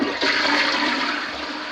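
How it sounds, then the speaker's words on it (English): Toilet in a newly built house flushing, a loud close rush of water that swirls steadily and then begins to ease off toward the end. "every one of the commodes are flushing right"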